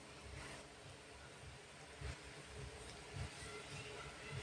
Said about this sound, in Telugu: ఇదంతా కూడా స్టార్ట్ అయిందండి ట్రైన్